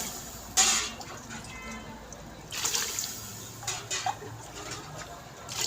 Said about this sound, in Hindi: तो अब इसमें हम डाल देंगे पानी।